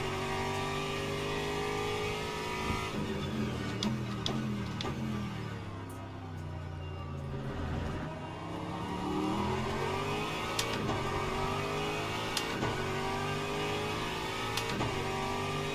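Aston Martin GT3 race car engine in a sim racing game at Spa, a continuous mid-pitched drone with rising and falling revs and gearshift pitch sweeps, with other cars audible around it.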